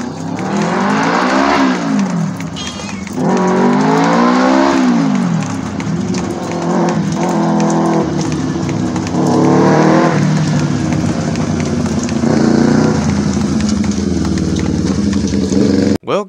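A Kawasaki Ninja motorcycle engine with 12.5 compression is revved hard in repeated throttle rips, each rising and falling in pitch, loud and close, with brief lulls between pulls and no speech.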